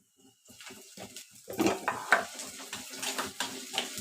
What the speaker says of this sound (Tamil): இஞ்சி பூண்டு பேஸ்ட்டு போட்டு அதையும் நம்ம நல்லா வதக்கி விட்டுக்க வேண்டியது.